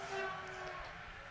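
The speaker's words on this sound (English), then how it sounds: "So there's just a train passing by." A train rushes past in the Subway Surfers mobile game, a steady broadband whoosh over a low rumble with a faint horn-like tone, ending in a brief sharp click.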